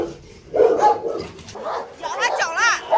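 A pregnant Rottweiler named Aila, 46 days along, scuffles with a rival dog, letting out yelps and wavering high whines in several close, loud bursts.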